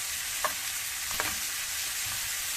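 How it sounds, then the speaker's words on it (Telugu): Cauliflower fries in a pan for a home-style curry, giving a steady broad sizzle throughout with a few soft scraping stirs of a spoon, close and moderately loud, with no talk. "వేసుకున్న క్యాలిఫ్లవర్ని కూడా వేస్తాను"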